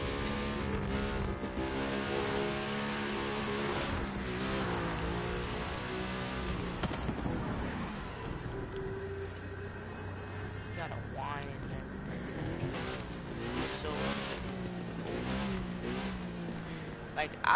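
An Audi sports car in the racing game The Crew 2 with a whining engine drones steadily and loudly throughout, its pitch rising and falling as it accelerates, while someone talks over it.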